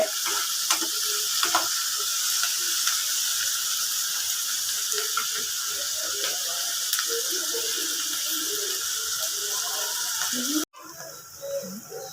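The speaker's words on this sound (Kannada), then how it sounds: "ಈರುಳ್ಳಿ ಫ್ರೈ ಆಗ್ತಾಯಿದೆ" Onions frying in a pan for a simple home-style egg fry, a steady bright sizzle holding evenly for about ten seconds before abruptly dropping quieter, with faint scattered crackles underneath.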